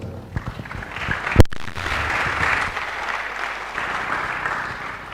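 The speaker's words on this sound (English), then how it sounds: "if you are clapping, please do it very well." Audience clapping at an International Day of Mathematics meeting in Tarkwa, Ghana, a steady round of applause filling the room for several seconds, with one sharp loud knock early on.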